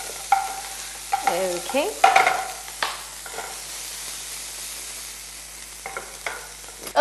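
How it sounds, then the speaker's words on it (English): Onions sautéing with garlic and chili in a pan give a soft, steady sizzle with scraping stir strokes at intervals. A brief spoken word is heard. "now so our onions are sauteed with the garlic and the chili, and a lovely aroma is coming"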